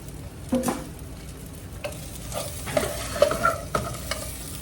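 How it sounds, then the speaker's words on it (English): Beef sizzles in a pan at a low steady hiss, with several clinks and scrapes as it is moved about, fairly close and moderately quiet. "There's my meat in that pan."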